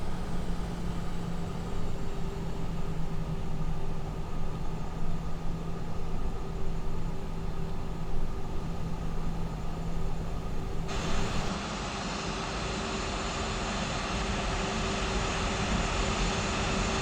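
A simulated airliner in X-Plane 11 taxis toward the runway, its engines giving a steady, loud broadband roar with a constant hum that shifts slightly in tone partway through, heard alone without talk.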